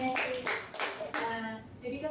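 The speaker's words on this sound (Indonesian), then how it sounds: "kita tepuk tangan dulu untuk Fitri" A small group of students in a classroom group-counselling session claps briefly in a few uneven bursts, with voices talking over the clapping.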